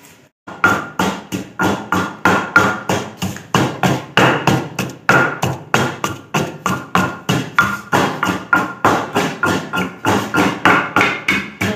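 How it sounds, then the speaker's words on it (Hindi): A garlic clove is pounded and ground in a home kitchen, giving a steady run of sharp, regular thuds about three per second, loud and close, continuing for the whole stretch with no talking. "एक डली जो है वो मैंने लहसुन की डाली है, उसमें उसको मैं अच्छी तरह रगड़ रही हूँ"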